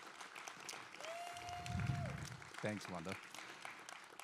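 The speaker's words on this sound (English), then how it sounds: "Let's please give a round of applause for all of these people who make this possible" An audience at an art-gallery conversation event applauds: steady clapping throughout, moderately loud, with a sustained tone, a low rumble and a brief spoken thanks over the applause.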